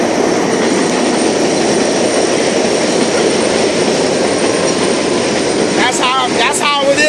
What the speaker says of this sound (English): Got that subway going.